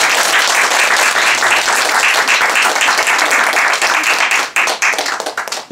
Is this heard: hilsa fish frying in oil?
no